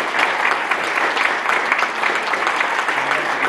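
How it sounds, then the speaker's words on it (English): An audience at a comics scholarship panel at the MICE 2016 convention gives the panelists a final round of applause: steady, dense clapping throughout, with no voices over it. "one last round of applause for our panelists"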